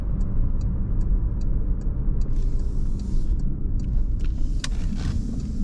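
Porsche Panamera 4 sedan turning onto a side street, its engine and road noise a steady low rumble heard from inside the cabin, with a few faint ticks and clicks above.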